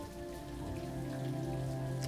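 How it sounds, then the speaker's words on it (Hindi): Steady monsoon rain falls on surfaces as a continuous, even patter, soft and fairly distant, with no voices. "बारिश ही है अभी, मॉनसून।"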